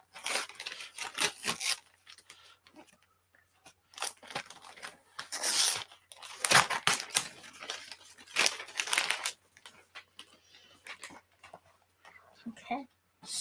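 A box of See's candies is unwrapped with bursts of crinkling and tearing wrapping paper, while people talk excitedly over the rustling.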